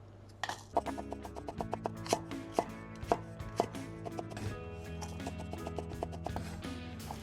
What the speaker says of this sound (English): Let's slice these chilies.